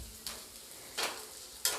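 Potato and cabbage fry in a pan with a soft, steady sizzle, and three short bursts of scraping stir strokes break the quiet hiss.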